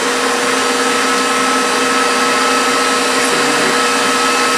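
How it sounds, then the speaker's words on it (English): An electric mixer runs on high speed beating cheesecake batter for gingerbread cheesecake, a loud steady whir that holds unbroken throughout. "I'll put the mixer on"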